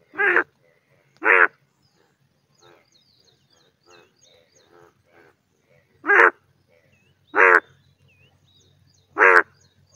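Loud croaks of yellow Indian bullfrogs in the rain repeat at irregular intervals, about five strong calls with fainter chirps between them, close by against a quiet background.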